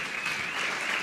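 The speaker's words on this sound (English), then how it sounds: "So let's give them a round of applause for that." Audience applause at a security conference opening event, a dense, steady wash of many hands clapping that fills the whole moment without pause.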